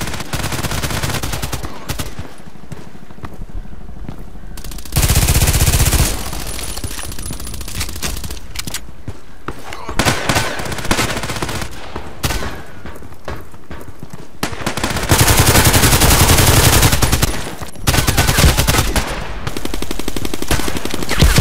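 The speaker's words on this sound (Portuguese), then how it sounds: "Artilharia aérea, mano." Air artillery gunfire in the online shooter game Contract Wars, loud bursts of rapid automatic fire and explosive blasts in repeated clusters with short gaps, dense and close throughout.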